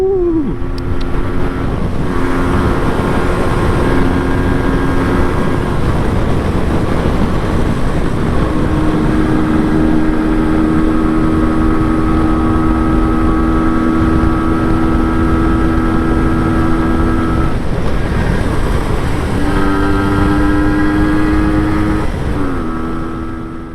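An MZ TS125 two-stroke motorcycle fitted with a new Mikuni carburettor ticks over steadily at close range, a loud, even idle that holds throughout with only slight wavering, with no voices.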